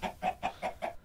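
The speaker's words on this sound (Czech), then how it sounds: "vidíte, mám tam dokonce i blbý slepice" Chickens in the video game Minecraft give five quick, evenly spaced clucks, close and clear with no voices over them.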